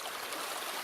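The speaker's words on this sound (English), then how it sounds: "But beautiful little stream." A small spring-fed stream in a snowy area runs steadily, a continuous close hiss of flowing water with no talk.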